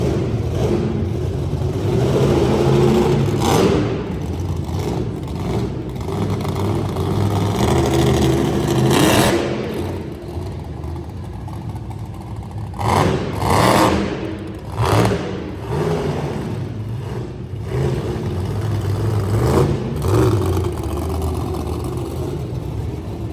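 Monster truck engine revving in a motorsports arena as the truck heads toward the pits, with repeated surging throttle bursts over a steady low rumble and crowd-like noise, fairly loud and close.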